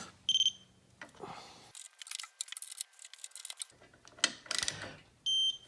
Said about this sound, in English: I like this beeping torque wrench.